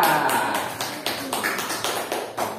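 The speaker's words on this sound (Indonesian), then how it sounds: "Tepuk tangan untuk kelompok Mbak Akila." Classroom students clapping for a group, a burst of many hands at first, then sparser rhythmic claps trailing off near the end, fairly close and clear with no talking.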